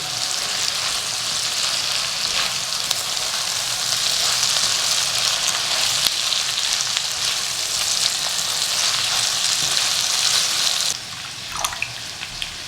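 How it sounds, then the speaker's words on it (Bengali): Previously fried chicken pieces hiss and sizzle loudly in a pan while being stirred, a close steady crackle with occasional scrapes, fading somewhat near the end; no voices. "এবার চিকেনটা দিয়ে 1 মিনিট নাড়বো"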